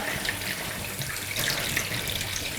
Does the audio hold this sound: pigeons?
no